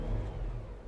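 A Jeep Wrangler's engine revs up during off-road driving by a river, a brief, moderately loud low growl as the throttle opens.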